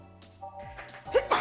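A single short sneeze, close and abrupt, preceded by a soft intake of breath.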